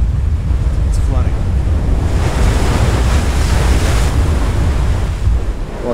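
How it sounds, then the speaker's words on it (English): Floodwater rushing in from the video game I Am Alive, a loud, continuous roar of surging water and wind-like noise that swells through the middle and stays dense throughout. "It's flooding."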